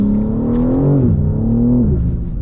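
A BMW G80 M3 engine pulls hard under acceleration, a loud continuous drone that climbs in pitch through the revs, dips briefly at a shift, then rises again, heard from inside the cabin.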